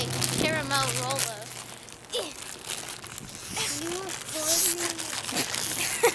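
A Rolo caramel chocolate wrapper is torn open, giving brief crinkling and ripping close by, mixed in with children talking throughout.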